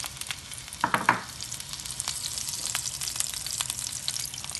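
Chopped onion dropped into a small amount of hot oil in a pan, a brief burst of sizzling near the start that settles into a steady, moderate frying hiss with light crackles, no voices.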